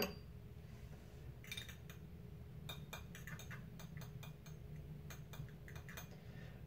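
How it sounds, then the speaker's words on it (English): A bamboo-style whisk briskly stirring matcha tea in a bowl, producing faint rapid clinking and scraping bursts in short irregular runs over a quiet background. "I might just give this another whisk"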